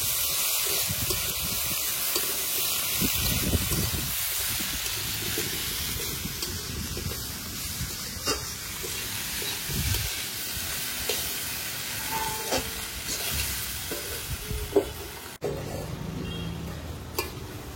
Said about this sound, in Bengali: আবার একটু ভালো করে নাড়াচাড়া করে আবার একটু ঢেকে দেবো